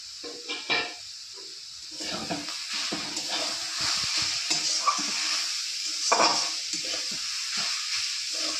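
Greens (saag) with green chillies fry in a pan with a soft, continuous sizzle, while a spatula stirs and scrapes in occasional louder bursts, fairly close and with no speech.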